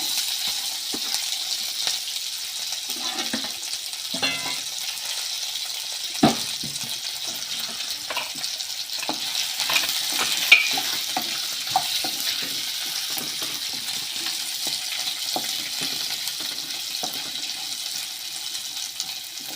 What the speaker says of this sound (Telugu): కొంచెం ఉల్లిపాయ కొంచెం పచ్చివాసన పోయేంత వరకు అట్లా వేయించుకోవాలా